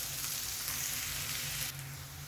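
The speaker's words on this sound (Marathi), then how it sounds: "कांदा परतत आलाय" Onions sizzling and frying with chilli in a pan for a radish dish, a steady close crackle that softens slightly toward the end.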